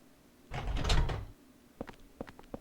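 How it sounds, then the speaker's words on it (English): In the Silent Hill 4 video game, a car door unlatches and swings open with a single loud mechanical clunk and rattle, followed by a few soft taps and clicks. "Car doors opened."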